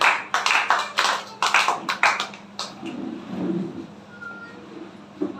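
Audience applause for children at a Hindi poetry gathering: a burst of loud clapping that fades quickly over a few seconds into quiet room noise.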